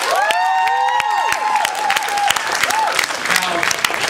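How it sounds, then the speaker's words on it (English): Audience at a college conference poetry event clapping and cheering in a hall, lively continuous applause with raised excited voices over it. "Clap if you've heard of the hip-hop group Now"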